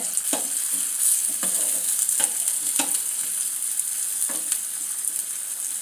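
Chopped onions fry and sizzle steadily in a pan, with a continuous bright crackle and periodic scraping strokes of a spoon stirring them, close up and with no talking.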